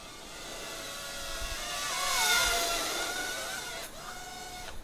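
A Striders S6 spider quadcopter drone with small, flexible props, its motors giving a thin, buzzing whine that rises in pitch as throttle and pitch are pushed hard, then drops and climbs again.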